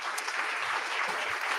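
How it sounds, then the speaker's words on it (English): Applause for the technical team at a Libertarians Victoria federal election campaign launch, dense and fairly faint crowd clapping from a room audience, continuous throughout the short stretch. "Can we get a round of applause also for all the technical team?"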